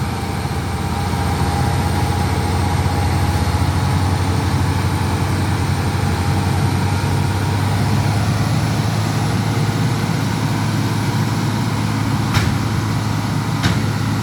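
A road grader works on a road repair job, its heavy diesel engine droning in a loud, steady low rumble close by, with two brief sharp clicks near the end.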